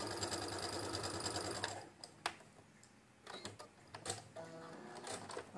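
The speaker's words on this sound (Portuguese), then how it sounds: "Agora eu vou costurar o outro lado." Sewing machine stitching patchwork, a rapid mechanical whirr of needle strokes that runs steadily, then stops, followed by short bursts of stitching and small clicks, close and fairly quiet.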